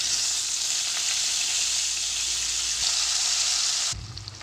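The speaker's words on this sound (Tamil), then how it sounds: "உருளைக்கிழங்கு ஆட் பண்ணிட்டு நல்லா ஒரு தடவை மிக்ஸ் பண்ணி விட்டுக்கோங்க." Cubed potatoes frying in hot oil with cumin on a low flame, a bright continuous sizzle with a few stirring scrapes, cutting off abruptly near the end.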